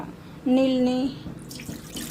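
Water from soaked horse gram poured into a pressure cooker, a short close splash of liquid running in, followed by quieter clatter.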